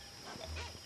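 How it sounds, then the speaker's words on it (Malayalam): A dog gives a short, faint bark or yip from some distance, a single brief burst over a quiet background hiss. "ഈ പട്ടി എന്തിനാ അങ്ങനെ കിടന്ന് കുറയ്ക്കുന്നത്?"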